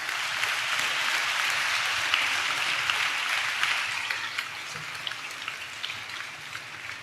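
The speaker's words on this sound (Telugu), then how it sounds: "అటువంటి దేవుణ్ణి కలిగి ఉన్న మనం ఒకసారి చప్పట్లు కొడదామా?" A church congregation claps together during a worship service. The sustained, dense applause holds steady for about seven seconds, then thins slightly toward the end.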